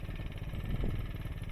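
A cheap outboard motor, neglected for two years and newly started, runs rough and smoky at a fairly low level, with an uneven buzzing rumble and a brief swell midway.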